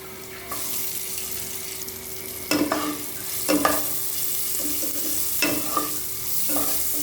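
Carrots and green beans are stir-fried in a pan, with a soft background sizzle broken by several distinct scraping, clattering stirs of the spatula at irregular intervals.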